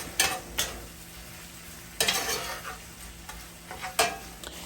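Red pepper paste sizzles in a skillet, a steady hiss broken by a few sharp clanks and scrapes of a utensil against the pan.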